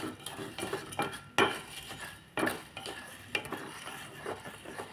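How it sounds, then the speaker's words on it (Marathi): A utensil scrapes and knocks against a pan as jaggery melts in water, with rhythmic stirring strokes and occasional louder clanks, heard close with faint sizzling underneath. "त्याला असं चांगला मस्त हलवत राहणं जेणेकरून तो लवकर मेल्ट व्हायला पाहिजे"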